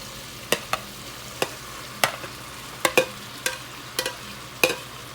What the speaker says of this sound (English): now I will start putting all of the berenjena, all of the eggplant.